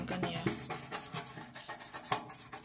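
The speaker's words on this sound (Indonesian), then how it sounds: "Kita gosok pakai sikat ya, ambil aja sikat yang gak kepake." Brush scrubbing inside an electric oven, loosening blackened grease after soaking: a steady series of close, rough rubbing strokes with irregular rhythm and one sharper scrape near the end, no talking.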